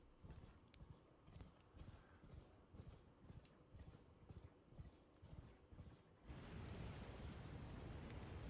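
Horse hooves clip-clop in a steady galloping rhythm in the video game Elden Ring, loud and close, then a broad rushing burst swells over the last couple of seconds.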